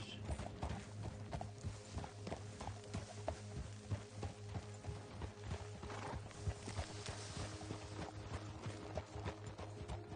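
Horses walk at a slow pace in Red Dead Redemption with steady, soft clip-clop hoofbeats in an even rhythm, heard close and at moderate volume over low background ambience.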